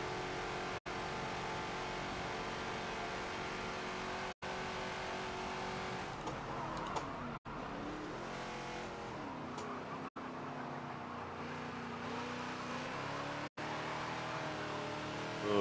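Ford Falcon XB racing around Daytona in Forza, its engine roaring loud and steady with a few brief cuts as the throttle lifts and gears change, then revving hard again.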